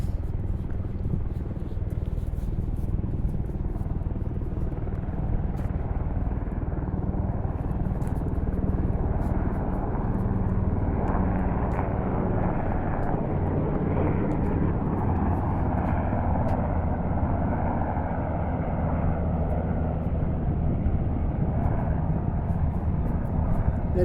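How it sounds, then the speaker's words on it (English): Military helicopters fly low overhead above a downtown area near a harbor, a loud, continuous low rotor rumble that holds steady for the whole stretch. "They're military helicopters from the base down there."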